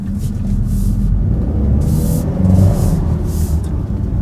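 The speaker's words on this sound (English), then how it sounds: "I'm hearing some engine noise inside the cabin." Inside the cabin of a 2016 Volkswagen Tiguan 4Motion with a glass sunroof, a low engine drone and road rumble hold steady, moderately loud, with no voices.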